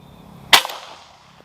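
One sharp, sudden shot from a Pasopati Gtamo PCP air rifle with a snappy crack, followed by a brief fading tail in otherwise quiet surroundings.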